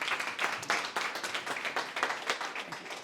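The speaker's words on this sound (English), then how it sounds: "we need to give them a round of applause" Audience at a church rector's forum breaking into applause, a dense patter of many hands clapping at moderate loudness for the full stretch, with no voices over it.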